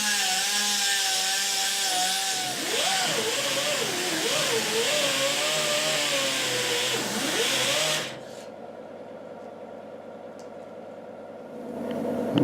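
An air-powered tool spinning a small abrasive sanding drum grinds away at a rock hammer with a loud, wavering rasping whine that shifts pitch under load, then winds down to a quieter hiss.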